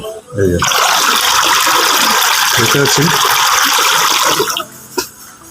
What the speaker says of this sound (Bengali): এই জল এই যে জল ঘুরছে ওই দিক দিয়ে নোংরা জলগুলো বার হচ্ছে